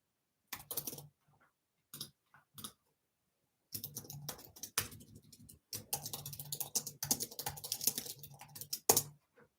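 Typing on a computer keyboard, quiet clusters of rapid clicking keystrokes in short bursts with pauses, growing busier and denser toward the end, heard alone without any talking.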